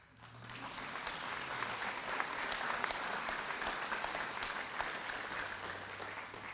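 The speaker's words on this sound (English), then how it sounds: "that was your cue to clap" An audience at a veterans' hall of fame ceremony breaks into sustained applause, a dense, even wash of many hands clapping that swells in and holds steady, somewhat distant.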